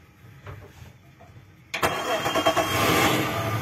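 Suzuki 250 four-stroke outboard motor on a river boat starting up, a few quiet clunks and then the engine catching abruptly and settling into a loud, steady rumbling idle with slight revving.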